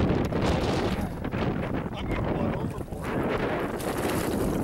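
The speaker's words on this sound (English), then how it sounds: "20-mile-an-hour winds out of the south." Strong, steady south wind blowing across a lake during a bass fishing outing, a loud continuous broadband roar buffeting the microphone for the whole clip, with gusty surges and faint water and boat noise underneath.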